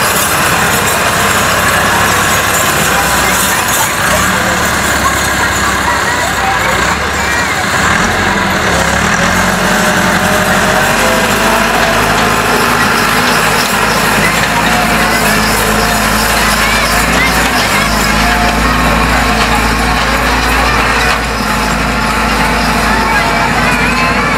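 A tractor engine drones loud and continuous while plowing farm fields, a heavy rumbling tone that shifts in pitch partway through, with people talking over it.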